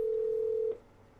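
At the start of a recorded phone call to a car dealership, a single steady telephone tone sounds loud and clear, then cuts off abruptly, leaving faint line hiss.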